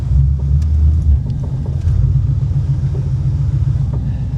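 A Ford Mustang SN95 with a Coyote engine pulls away, its deep steady rumble loud and close throughout, heavier at the start, with a faint tick or two over the drone and no talk.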